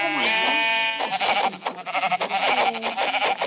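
Goat bleats from the Minecraft video game, a loud wavering bleat at the start followed by several more cries mixed with game sounds over a few seconds.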